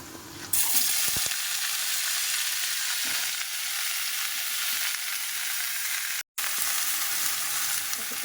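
Vegetables with potatoes and beans hit a hot karahi and burst into a loud, steady sizzle that continues throughout. A few utensil clicks sound early on, and there is a brief dropout near the end.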